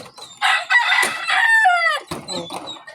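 A rooster crows loudly and close by, one long rising-and-falling call, followed by a few softer clucks.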